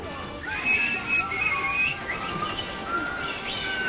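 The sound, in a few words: whistling the national anthem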